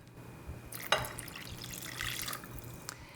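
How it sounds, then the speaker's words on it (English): Room temperature water is poured into vanilla cupcake batter in a kitchen, making a quiet continuous trickle with a brief splashy accent near the start. "And then we're going to add some water. It's just room temperature water."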